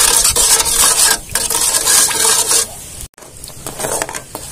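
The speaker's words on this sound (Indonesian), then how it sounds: "Santannya kita aduk terus biar santannya tidak pecah." A spoon scrapes and swirls steadily through a coconut milk and palm sugar mixture heating in a pot on the stove, close and fairly loud, with a soft bubbling sizzle and a brief pause.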